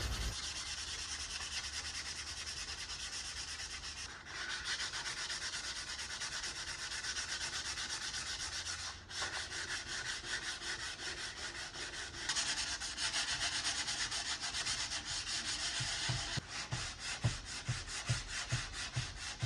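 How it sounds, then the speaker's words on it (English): Sanding a painted wooden nightstand smooth with 300 grit sandpaper, a continuous close rubbing hiss that shifts with a few brief pauses, then quicker back-and-forth strokes near the end. "it was time to go ahead and sand everything smooth again with a 300 grit sandpaper"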